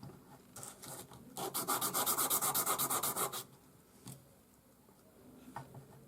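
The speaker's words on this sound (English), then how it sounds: "you're going to sand your cup until you have that little dull edge all the way around it" A metal ring cup is sanded flat with a fast, even run of rhythmic rubbing strokes, loud and close for about two seconds, then quiet with a few faint scrapes.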